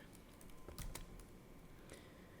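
Commands tapped out on a computer keyboard for a Raspberry Pi turret project, a quick quiet cluster of keystrokes near the middle with a faint one later, no voices.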